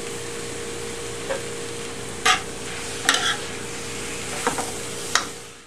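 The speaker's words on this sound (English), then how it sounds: "The last we'll add our Roma tomato that's been diced, and our mushrooms. We'll let this cook for a few minutes longer." A tofu scramble with diced Roma tomato and mushrooms cooks in a pan, giving a steady soft sizzle broken by a few sharp scrapes and clicks of stirring, close and moderately quiet, with no voices.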